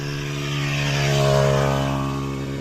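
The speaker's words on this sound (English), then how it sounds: "You can even hear the sound of a motorcycle" A motorcycle engine drones past on a hilly road between Tabora and Kigoma in Tanzania, a steady harmonic hum that swells to a peak midway and then fades a little. It is fairly close and heard alone.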